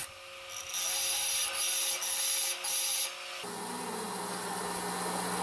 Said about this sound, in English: So I got a little piece of pipe, grinding a little angle on there so I can put some weld in.